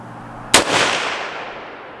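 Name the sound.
gunshots from Palmetto State Armory PA-10 rifle at target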